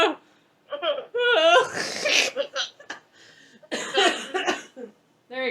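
A person coughs in a short, staggered fit mixed with laughter and throat-clearing, close and loud, broken by brief pauses.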